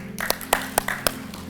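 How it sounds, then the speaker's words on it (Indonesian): A small congregation at a Sunday church service claps for Joella, a short burst of a few distinct, scattered hand claps rather than full applause. "Boleh kasih tepuk tangan untuk Joella dulu."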